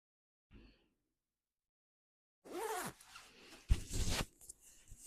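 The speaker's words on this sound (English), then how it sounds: "here, let me zip this up for you." A Stone Island padded micro twill hooded field jacket being zipped up: a faint short tug first, then two louder, fuller zipper pulls close by after a pause.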